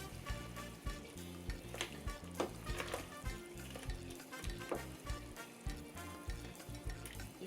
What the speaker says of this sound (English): It's already came to a boil.